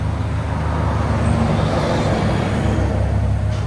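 A 2014 BMW M6 with a 4.4L twin-turbo V8 and catless straight-pipe exhaust gives a loud, steady, deep rumble that holds evenly for the whole stretch.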